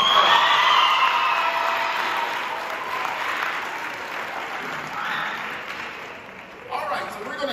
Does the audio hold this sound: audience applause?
yes